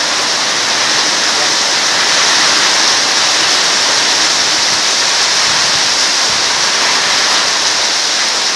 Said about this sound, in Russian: Град пошел. Да, и град идет.